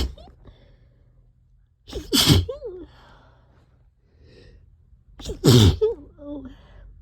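Two sharp, loud allergy sneezes come a few seconds apart, each preceded by a quick inhaling gasp and followed by a faint vocal trailing sound, with quiet breathing in the gaps between them.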